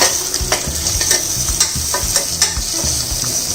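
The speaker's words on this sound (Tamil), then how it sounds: "பச்சை மிளகாய், மஞ்சள் பொடி வதக்கணும்" Green chilli and turmeric powder sauté in a hot pan for millet khichdi, with a steady close sizzle and repeated scraping stirs of a spoon against the pan, and no talking.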